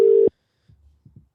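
A telephone line gives a single steady, loud electronic tone lasting about a quarter second while a call is dialed, then cuts off to near silence with a few faint soft clicks and thumps.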